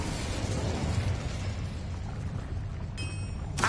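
An Incendio fire spell cast in Hogwarts Legacy, a roaring, crackling burst of flame that swells and then fades into a steady rush, followed near the end by a sharp shimmering magical chime.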